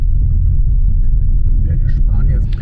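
A car rolls downhill along a mountain road, giving a steady, heavy low rumble from inside the cabin. A voice is faintly heard over the engine and road noise toward the end.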